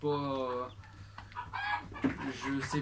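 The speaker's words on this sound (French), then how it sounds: "Excusez-moi pour le coq qui est un peu chiant" A farm rooster crows loudly and close by in a drawn-out call, followed by scattered clucks and a second throaty burst, with low background noise throughout.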